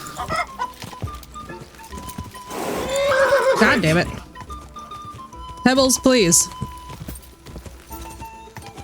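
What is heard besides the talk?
horse neighing and hooves, video game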